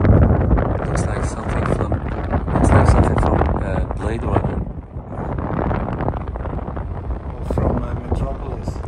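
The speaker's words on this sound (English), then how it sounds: "And it's windy." Strong wind gusting along an Amsterdam canal lined with tall facades, a loud continuous rumbling roar buffeting the microphone throughout, swelling and easing in gusts with faint voices underneath.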